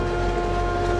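A train runs in a cutscene from the video game Oddworld Soulstorm, a loud, steady rumble with humming engine tones and no talk.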